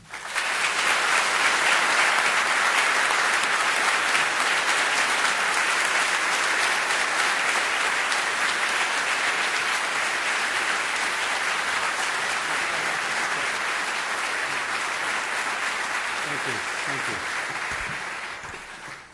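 An auditorium audience gives a loud, sustained round of applause for a royal guest at a lecture event, steady clapping that fades out near the end.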